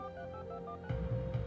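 Electronic phone dialing tones from a voice-commanded call, a short run of steady beeping tones close up and clear, with a brief louder burst of low noise partway through.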